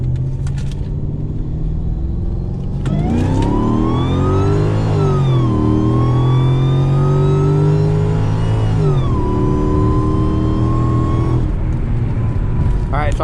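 A supercharged Mercedes E55 AMG engine revs hard under full throttle, its pitch climbing steadily through a long, loud pull close by, then easing back to a steady drone.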